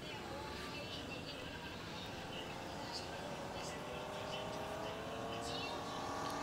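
A racing car in a driving video game speeds along, its engine a steady, continuous drone with faint higher whines layered over it, lasting throughout.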